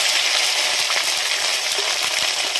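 Onion paste frying in hot oil for a village chicken curry, a steady dense sizzle with light crackles throughout, close and fairly loud with no talk.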